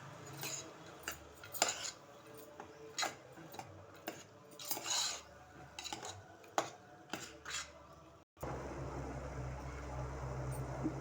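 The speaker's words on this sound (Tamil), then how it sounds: "இப்போ எல்லாத்தையும் வதக்கிடலாம்." Peas and ginger garlic paste are stirred in a pan for pav bhaji, with a spoon ticking and clinking irregularly against the metal, then a steady low sizzling hiss takes over near the end.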